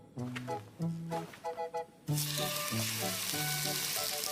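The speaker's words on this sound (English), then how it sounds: "Listen to that exquisite sizzle." A steak frying in a pan breaks into a loud, steady sizzle partway through, hissing continuously beneath a light melodic music track.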